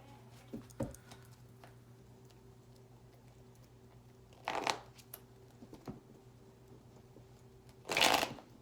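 Two short bursts of tarot cards being riffled, a brief flutter midway and a louder one near the end, over a steady low hum and faint clicks.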